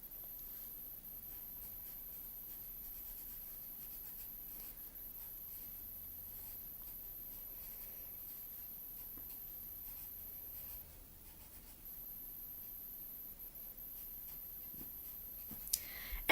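A pencil writes the alphabet in capital letters on paper with faint, steady scratching strokes that continue for about sixteen seconds in a quiet room.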